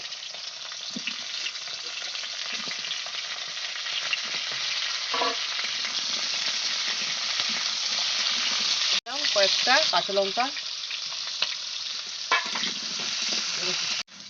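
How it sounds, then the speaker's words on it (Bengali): Potato, radish and pumpkin fry in a pan for a vegetarian leafy-greens ghonto, giving a steady, close sizzle throughout with some stirring; a voice speaks briefly over the hiss toward the end. "আলু দিয়ে একটু হালকা করে ভেজে নেব দিয়ে দিলাম মূলো আর দিয়ে দিচ্ছি কুমড়ো"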